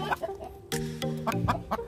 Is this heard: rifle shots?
no